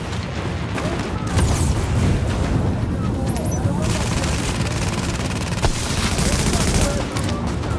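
Gunfire crackles through a firefight in the video game Tom Clancy's The Division, with dense bursts of automatic shots, booming impacts and a few sharp single reports over a steady, noisy battle bed, and a player's voice talks over it.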